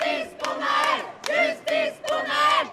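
Protest crowd in France during nights of rioting, shouting rhythmic chants in loud bursts about half a second apart, many voices together and close by.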